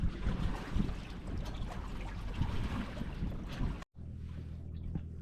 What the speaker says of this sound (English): Even with the lightest of wind that we have right now, we were able to tack.